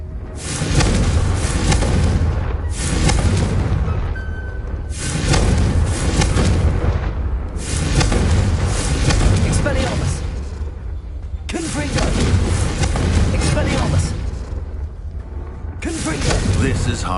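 Confringo blasting curses explode in Hogwarts Legacy: a series of loud, close bursts repeating every two to four seconds, each a broad blast with a rumbling tail and short quiet gaps between.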